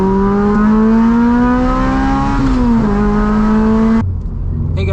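A Toyota 86 four-cylinder engine revs hard through an aftermarket exhaust, loud and close with a rising tone, a brief dip and a second climb before cutting off abruptly.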